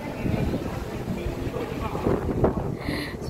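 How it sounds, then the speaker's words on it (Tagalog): Strong seaside wind at Bedok buffets the microphone with a dense, continuous low rumble, while voices speak faintly underneath. "Sobrang hangin, nililipad yung aking sombrero."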